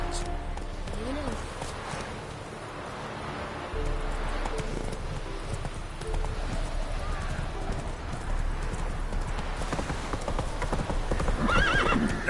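A horse gallops and neighs in The Witcher 3, with continuous close hoofbeats and whinnies mixed with game ambience, and voices talking over parts of it.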